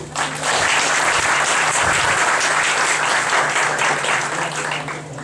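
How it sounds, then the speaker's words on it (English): A lecture audience breaks into sustained, dense applause that fills the room for several seconds before tapering slightly at the end. "Let's clap for him."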